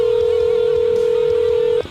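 A steady telephone ringback tone on an outgoing call during a radio show, one continuous ring lasting almost two seconds before cutting off abruptly.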